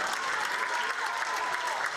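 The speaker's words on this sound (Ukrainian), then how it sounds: "Гучні аплодисменти у залі це найкращий доказ." Loud, sustained applause from an audience filling a theatre hall after a Ukrainian-French puppet stage play, dense steady clapping throughout.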